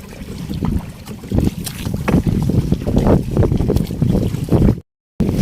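Strong wind buffets the microphone aboard a small fishing boat at sea, a loud continuous rushing roar with gusts and engine-like rumble, cutting out briefly near the end.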